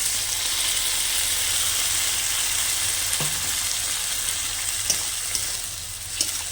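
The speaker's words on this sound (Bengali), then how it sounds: "টমেটোটা হালকা করে কষিয়ে নেব বেশি একেবারে গলাবো না তো এইভাবে হালকা করে কষিয়ে নেব এবার দিয়ে দেবো বেটে রাখা মশলা" Ground spice paste and tomato fry in a pan, a dense continuous sizzle close by with a few light clinks of a spoon toward the end.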